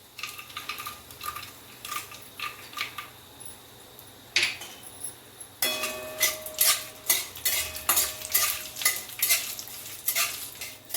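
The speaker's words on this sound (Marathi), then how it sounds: "आता आपले शेंगदाणे भाजत आलेले आहेत. हे हलवीत राहायचे जरा." Peanuts and cumin frying in oil for pohe, a soft sizzle under repeated scraping and clinking of a spoon stirring in a pan, the stirring strokes growing louder and more rhythmic partway through.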